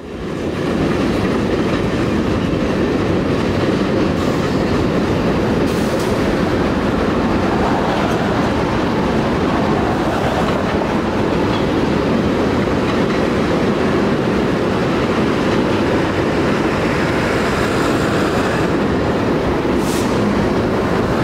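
Freight train rolling past on rails, a loud, continuous close roar of wheels and cars with rhythmic clickety-clack and occasional squeal-like accents, sustained throughout with no talking.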